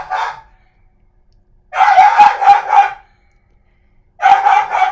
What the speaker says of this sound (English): That would be my dogs.